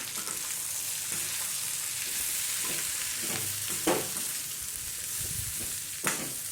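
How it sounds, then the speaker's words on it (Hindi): Potato and capsicum pieces frying in a pan, with a steady sizzle and a spoon stirring and scraping them at irregular intervals. "अच्छे से मिक्स करके इसको शिमला मिर्च के हल्के से सॉफ्ट होने तक पकाएंगे।"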